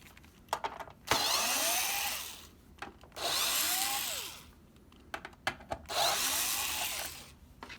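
A power screwdriver whirs in three separate bursts, each a few seconds long, with small clicks and handling taps between them while screws are removed from an Xbox One S power supply.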